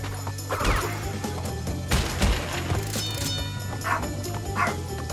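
Close, loud barks from a pet dog come in a few separate bursts over steady Crash Bandicoot N. Sane Trilogy game sounds, with an occasional sharp crash-like hit.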